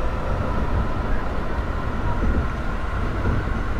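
Limited express train passing on the neighbouring track in the Train Drive ATS 3 driving game, a continuous loud rumbling rush of wheels and carriages rolling by steadily for several seconds with no speech.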